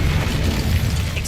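An Incendio fire spell blasts out in Hogwarts Legacy, a loud, booming roar of flame with a deep rumbling body that fills the whole short moment.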